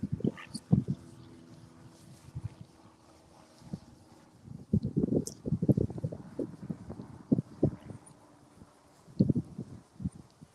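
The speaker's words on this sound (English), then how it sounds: "Sorry about the wind." Gusty wind buffets the microphone in low rumbling bursts, rising and falling irregularly, with faint background sounds between gusts.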